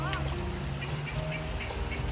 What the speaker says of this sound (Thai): มีเป็ดด้วย